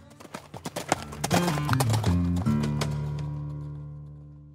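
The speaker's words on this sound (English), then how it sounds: "So Shannon holstered her pistol, climbed back on Dex, and rode off" A horse ridden off on a Texas trail, its hooves clip-clopping in a quick uneven rhythm, followed by a ringing whinny that slowly fades away.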